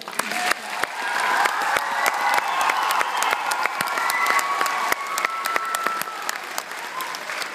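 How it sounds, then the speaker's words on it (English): A school audience at a fourth-grade Christmas concert applauds a teacher, dense continuous clapping from a crowded room with a few louder nearby claps, steady throughout. "let's give each one a round of applause, please"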